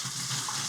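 Liquid poured into one litre of clean water while preparing a beer brewing kit, a steady splashing pour lasting under a second, close and moderately loud with no talk.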